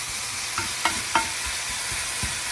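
Bacon sizzles and renders in a frying pan for spaghetti carbonara, a steady close hiss with a few sharper pops and scrapes of stirring.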